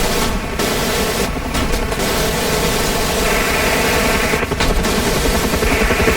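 Huey helicopter door gun hammering away at a T-55 tank in a combat flight simulator, a loud dense stream of rapid fire over the constant roar of rotor and engine noise, with brief pauses between bursts.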